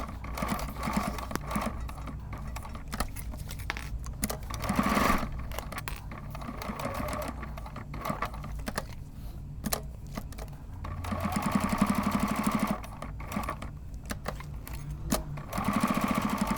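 A sewing machine stitches fabric for a bottle holder in quick rattling bursts, stopping and restarting several times at close range with no talking.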